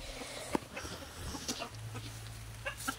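Faint clucking of chickens at a cockfight, with a few short sharp sounds rising over a low, murmuring background.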